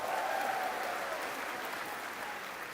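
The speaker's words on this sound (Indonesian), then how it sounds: "Boleh beri tepuk tangan untuk Ubah Bareng." An audience at a Desak Anies event in Indonesia applauds the Ubah Bareng organizers, with dense, sustained clapping from a crowd that tapers slightly toward the end.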